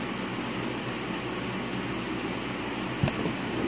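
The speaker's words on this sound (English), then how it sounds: "Sorry about the fan." A fan runs in a room during a Crash Bandicoot N. Sane Trilogy gaming session, making a steady, fairly loud whooshing hum with a small bump near the end.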